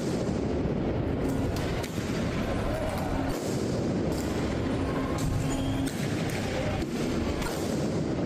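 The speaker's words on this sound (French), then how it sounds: "Ah, des feux d'artifice." Loud, dense crackling booms of firework mortars go off repeatedly and close by during a street protest, one burst after another with rumbling noise between.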